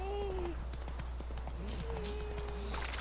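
Roach the horse gallops in The Witcher 3, hooves clip-clopping in a quick steady rhythm beneath game music and a steady low hum, with a voice talking over it.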